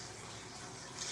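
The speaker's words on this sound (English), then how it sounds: "some water running, a little bit of water running in the background." Water running into a bathtub as a bath is drawn, a steady, soft background rush of flowing water, faint and continuous with no voices.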